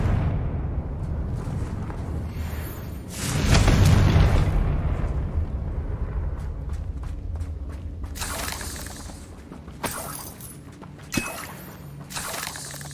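Confringo blasting-spell explosion in Hogwarts Legacy, fought against spiders: a loud, close blast bursts out about a third of the way in and rumbles for roughly a second, followed by a few sharper, smaller pops over a lingering low rumble.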